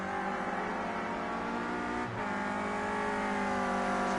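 A Renault Clio Cup race car drones steadily through braking and a late turn at Oschersleben, its engine note loud and continuous with a brief dip midway, heard without talk.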